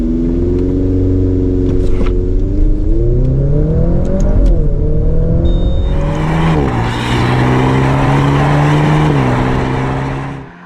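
Maserati Grecale GT SUV accelerating hard from standstill to 100 km/h: a loud, close engine roar climbing through the revs, a brief gear-change dip, then pulling strongly again with rising whine and wind.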